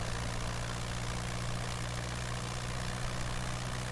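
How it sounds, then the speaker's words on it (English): A simulated vintage propeller aircraft engine in Microsoft Flight Simulator 2020 drones loudly and steadily at full throttle during a nose-down roll, a constant low rumble with no other sounds. "You can hear the engine RPM increasing."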